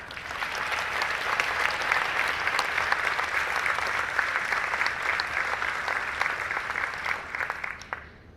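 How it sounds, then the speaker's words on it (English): Sustained audience applause for two congressional runoff debate candidates, a steady dense wash of clapping from a sizeable crowd lasting about eight seconds before cutting off abruptly. "a big round of applause for Gary Palmer and Paul DeMarco."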